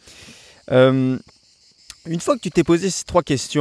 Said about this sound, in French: On entend les cigales là, en arrière-plan